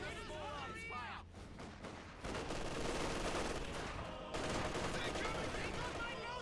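MG34 machine gun fire against conscript infantry in the World War II strategy game Company of Heroes 2: dense rattling bursts mixed with other gunfire and battle noise, with someone talking over the first part.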